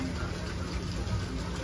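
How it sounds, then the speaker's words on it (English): Rain falls during a sun shower outside a resort cabana, a steady, even hiss of drops hitting surfaces nearby with no talk. "Well, the rain's still going."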